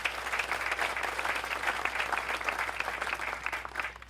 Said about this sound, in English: Let's go ahead and give them an applause as well.